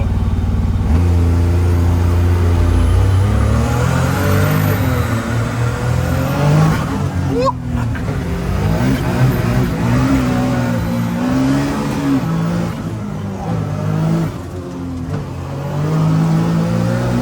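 A buggy engine at a ski resort spools up and revs hard, its loud rising and falling tones sweeping up and down through repeated throttle pulls, close and continuous with no talk.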